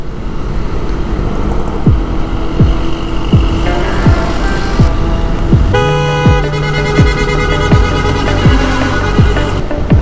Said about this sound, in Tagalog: Puro truck na yung kasabay natin ah.